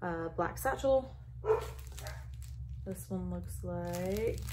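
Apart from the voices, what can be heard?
dogs barking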